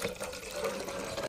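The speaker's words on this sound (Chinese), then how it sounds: "你给我倒上水。" Water pours steadily from a container in a home science experiment, a continuous watery rush at moderate level that ends with a brief louder splash.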